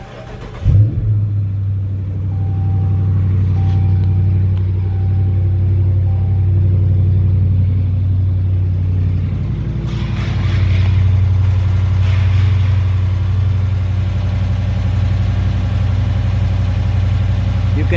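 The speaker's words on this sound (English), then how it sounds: "what we're going to be listening for is that standard Hemi tick" A 2018 Dodge Charger R/T with a 5.7L Hemi V8 idles close by, a steady low rumble with a light ticking over it, swelling briefly as the engine is blipped partway through.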